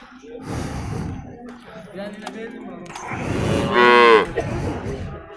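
Large cows at the Tokmok livestock market low in drawn-out moos, one loud and close near the end, amid breathy snorts and market background noise.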